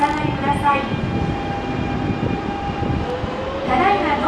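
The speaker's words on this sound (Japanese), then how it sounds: "ただいま到着の電車は急行和歌山市行きです" A Nankai Railway express train pulls into Nankai Sakai station during the evening rush. It gives a steady rumbling rolling roar with squealing brakes near the end, while a platform announcement plays over it.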